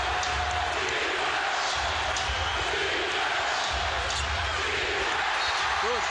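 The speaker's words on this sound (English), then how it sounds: "Listen to this crowd." NBA arena crowd at a 2003 Jordan versus Reggie Miller game, a loud continuous roar of cheering and noise filling the space, with sneaker squeaks and bouncing ball sounds faintly underneath.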